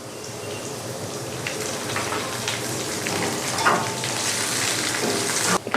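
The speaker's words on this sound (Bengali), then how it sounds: "পেঁয়াজ ভাজতে ভাজতে আমি ওর মধ্যে দিয়ে দিলাম" Sliced onions fry in hot oil with four bay leaves for a broiler chicken and potato curry, sizzling in a loud, steady crackle that swells slightly, with a few stirring scrapes.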